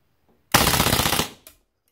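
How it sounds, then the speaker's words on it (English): A WE Mauser M712 airsoft gas blowback pistol empties its magazine on full auto in one loud burst of rapid shots lasting under a second, followed by a short sharp click or hiss. "Let's see how it does a full auto mag dump."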